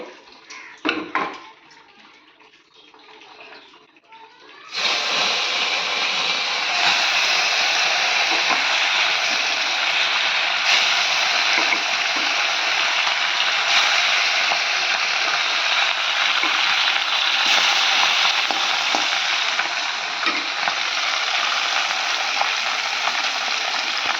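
Fish frying in oil in a wok (kadai), a loud, steady crackling sizzle that bursts in after a few quiet seconds of faint kitchen clatter and carries on unbroken, with no talking.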